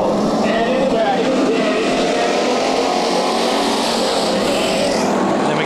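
Hobby Stock race cars taking the green for a heat race at Bakersfield Speedway, a dense continuous roar of many engines revving together, loud and close, with a voice talking over it.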